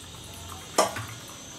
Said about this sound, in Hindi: थोड़ा सा हम लेंगे पानी।